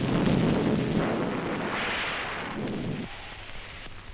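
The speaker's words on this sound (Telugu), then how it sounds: "అయ్యో వర్షం వచ్చేలా ఉంది. రానే వచ్చింది." Heavy rain bursts into a loud, dense roar with a deep rumbling low end like thunder, swelling for about three seconds, then thinning abruptly to a lighter, steady patter.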